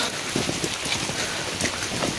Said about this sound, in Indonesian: Dalam suasana hujan, kami harus berjalan terus di dalam hujan tanpa berhenti